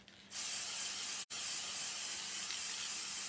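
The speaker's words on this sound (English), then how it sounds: "I'm just going to spray" An aerosol can sprays in a long steady hiss, briefly cut off for a split second before continuing, close and loud.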